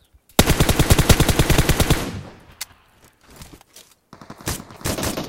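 Video game shootout: a loud rapid automatic burst rattles for nearly two seconds, then fades into scattered single shots and softer thuds, some distant, with no voices.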